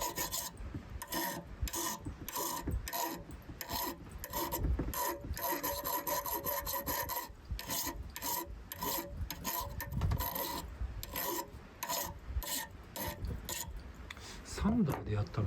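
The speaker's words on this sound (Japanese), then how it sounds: "丸いヤスリの方がいいかな。" A round file rasps against the steel of a handmade knife in rapid, steady back-and-forth strokes, close and fairly quiet.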